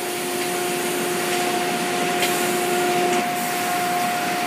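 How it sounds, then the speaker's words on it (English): A machine cutting straps runs with a steady broadband whir and two constant tonal hums, one fading out partway, plus faint scraping ticks, loud and continuous without talk. "There you go, you see it cutting the straps."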